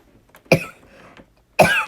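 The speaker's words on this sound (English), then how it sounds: "excuse me with my cough" Two sharp coughs about a second apart, loud and close, with a faint breathy sound between them.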